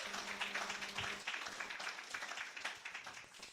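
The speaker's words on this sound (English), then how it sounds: "one more clap" A church congregation claps during a Sunday service of music, a brief, quiet burst of many hands that thins out over a few seconds with no voices.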